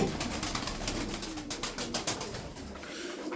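Soft, repeated cooing of pigeons, several birds murmuring together close by in a steady, rolling rhythm with no talking.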